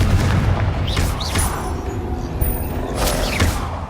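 Confringo explosion spell cast in Hogwarts Legacy during a fight: loud booming blasts with whooshing magical effects and dense battle noise, several bursts in a few seconds.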